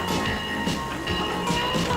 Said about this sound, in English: One of the best things about an old steam engine is all the noise they make as they chug on down